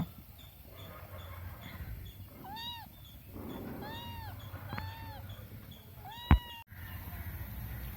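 A small kitten on a roadside in Tamil Nadu, India, gives a series of thin, high meows, several short cries spaced over a few seconds, faint against low background rumble and a sharp knock near the end.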